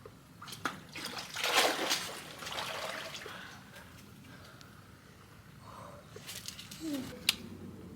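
Water sloshes and splashes in a cold plunge, loudest early on and then softer, with light drips and movement close by.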